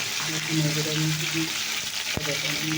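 Cut cauliflower and potato frying in hot oil, a steady close sizzle with faint tonal hum and a brief clatter near the end, under no speech.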